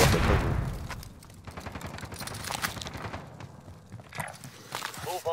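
Gunfire in the Call of Duty Warzone video game, a series of sharp bursts and shots scattered across a busy, cluttered game mix with other effects, moderately loud.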